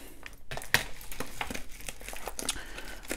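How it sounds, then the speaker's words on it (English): Crinkling plastic and snipping sounds as scissors cut open a plastic packet, a few sharp cuts and rustles close by, with no one talking. "can't get in to this packet, but that's why you always have some scissors nearby."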